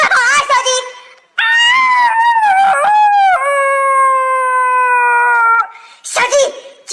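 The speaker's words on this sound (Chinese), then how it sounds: "就是这个狼嚎，是不是跟打呼噜特别的像？" A husky lets out a long, drawn-out wolf-like howl that wavers in pitch, with bursts of other yelping vocal sounds before and after it.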